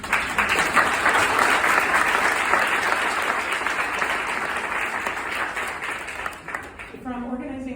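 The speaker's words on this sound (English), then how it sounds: "Our volunteers and staff deserve a round of applause for their tireless support at the shelter." A large audience claps steadily at a community event honoring shelter volunteers and staff, dense and sustained, tapering near the end as a voice begins speaking.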